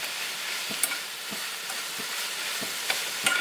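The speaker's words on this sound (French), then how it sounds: "Là, on mélange un peu de manière à allier un petit peu le tout avec les épices." Meat sizzles in a pan without added fat as it is stirred with spices, a steady frying hiss punctuated by soft scraping strokes of the utensil at a regular pace.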